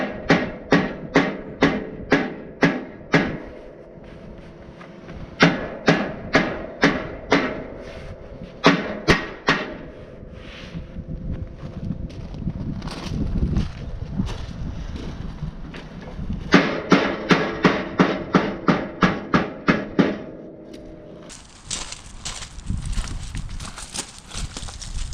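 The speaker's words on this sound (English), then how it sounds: "We'll just peen it down so the new edge sits flat." A hammer peens the steel cutting edge of a Fisher snowplow flat, with fast bursts of ringing metallic blows broken by pauses and softer clanking, close and loud throughout.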